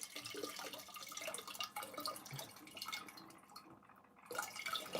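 Tap water running over soapy fingers at a sink in a home chemistry lab, a steady close splashing and dripping stream that fills the clip alone, briefly thinning near the end before resuming.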